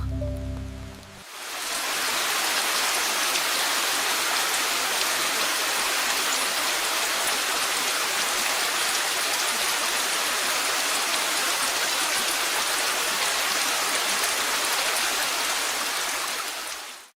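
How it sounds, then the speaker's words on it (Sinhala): Steady, heavy rain during a cyclone hisses continuously, an even dense patter that barely changes from start to finish after a brief quieter opening. "දිගටම වහිනවනේ. ඊයේ පටන් ගත්තු වැස්ස."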